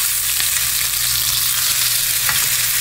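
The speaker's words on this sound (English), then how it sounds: "Give it another sear on the other side" Meat sears in a hot pan, producing a loud, dense, unbroken sizzle close up, with a faint utensil tap near the end and no talking.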